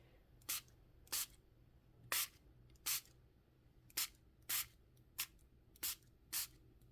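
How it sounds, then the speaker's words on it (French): Aerosol spray paint sprayed close onto a glass for a neon effect, nine short hissing bursts in an irregular rhythm with quiet pauses between, near and crisp. "lui je le spray assez proche"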